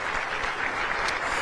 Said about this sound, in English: One more round of applause, please, all of our sponsors who came out tonight